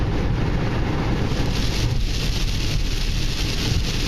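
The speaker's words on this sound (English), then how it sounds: "that just means that I can see the rain" Steady outdoor rain on the Ozark Trail's Taum Sauk section on a cold, wet day, a dense continuous hiss with wind rumble on the microphone, close and fairly loud with no talking.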